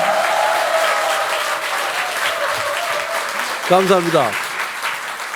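Audience applause at a women's entrepreneurship policy event, a steady wash of clapping throughout, with someone briefly speaking near the end.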